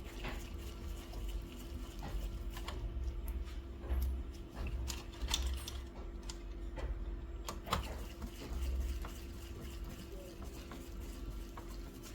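Bolts being screwed in while a new mainboard is fitted into a Canon G3060 printer, giving faint scattered ticks and ratchet-like clicks over a steady low hum, close by, with no talking.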